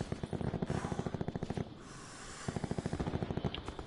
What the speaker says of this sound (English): Where are they shooting at?